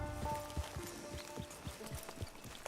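A horse walks in the video game Red Dead Online, its hooves clopping in a steady, evenly spaced rhythm at close range over a quiet ambient background.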